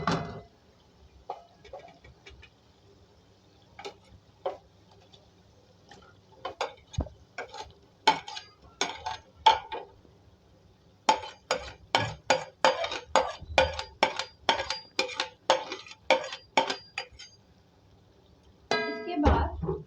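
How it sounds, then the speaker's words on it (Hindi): Fried chicken pieces are stirred into masala in a pan: close, irregular metallic clinks and scrapes of a spoon, sparse at first and then quick dense taps, with a short pause near the end. "फ्राई की हुई चिकन जो मैंने रखी थी यहाँ पर, ये मैं ऐड करूंगी इस मसाले में।"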